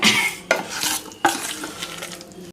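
Water splashes and trickles into a bowl of wheat flour, with soft stirring and scraping against the sides. Two sharper splashes stand out, nearby and fairly loud.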